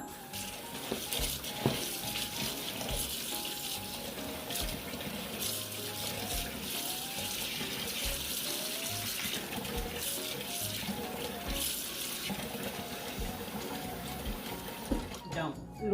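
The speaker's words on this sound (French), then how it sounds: "Nous allons laver le riz jusqu'à ce que l'eau soit claire." Rice being rinsed under running water gives a steady, continuous splashing hiss that carries on unbroken at a moderate level throughout.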